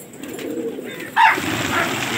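A brief moment of gola pigeons at a Lucknow pigeon-flying contest, a soft coo followed by a louder short call against steady outdoor noise.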